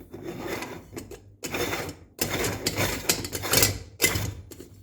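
Scraping, ratcheting metal-on-metal friction in several bursts as the top and base of an Ernesto stovetop espresso maker are screwed together tightly. The sound is close and moderately loud, with short pauses between the twists.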